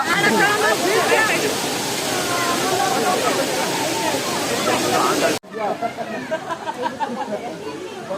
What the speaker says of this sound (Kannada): ಅಲ್ಲಿಂದ ಬರೋ ನೀರು ಇಲ್ಲಿ ಕೆಳಗಡೆ ಗುಂಡಿ ಹೋಗುತ್ತೆ